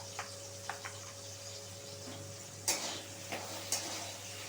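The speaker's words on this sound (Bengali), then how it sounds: "একটু ভাজা ভাজা করে নিতে হবে।" Potatoes fry faintly in oil with turmeric, a soft steady sizzle broken by a few light scrapes and clinks from stirring.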